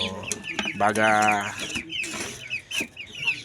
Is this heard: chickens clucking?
yes